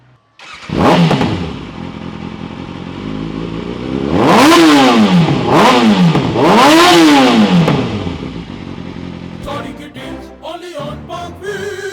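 Kawasaki ZX-6R Ninja 2016 sport bike engine revving close up, a quick blip followed by three long rising-and-falling revs, then settling into a rough idle with clatter.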